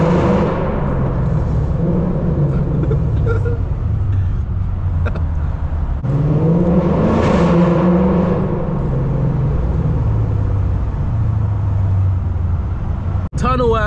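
A 540 hp V8 Toyota pulls hard at full throttle through downtown streets, its loud, steady engine roar rising and swelling over about fourteen seconds, with road noise beneath and a sharp transient near the end.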